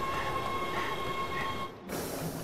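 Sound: train passing in the video game Resident Evil 6

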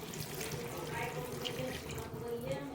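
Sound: water poured into cornflour

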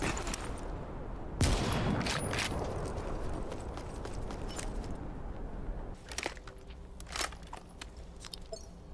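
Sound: gunfire from the X40A1 sniper rifle in the video game Super People

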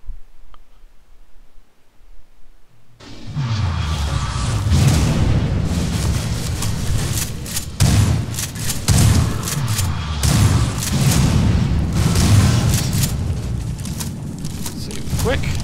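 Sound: explosions in a video game

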